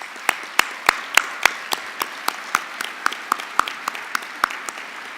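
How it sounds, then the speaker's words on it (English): An audience at a dinner event gives wounded warriors a round of applause, heard as sharp, regularly spaced single claps close by rather than a dense ovation. "please recognize and give them a round of applause"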